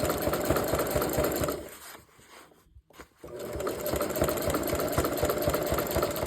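A sewing machine stitches fabric rope for a jelly roll rug, running in steady loud rapid bursts, pausing briefly in the middle, then starting up again.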